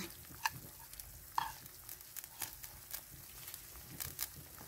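Onions sizzle faintly in a pan for soup while a spoon stirs, a soft steady frying hiss broken by occasional light scrapes and taps.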